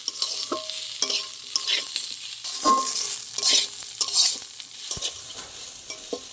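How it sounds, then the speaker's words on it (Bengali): Rice stir-fried with ground spice paste in ghee, a steady close sizzle broken by repeated scraping and clanking stirs of a spatula against the pan, with no talk. "চালটার সাথে মশলাটা একটু কষিয়ে নিতে হবে।"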